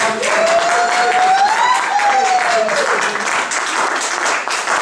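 A church congregation applauds loudly and continuously, a dense wash of clapping with a voice or whistle sliding over it partway through.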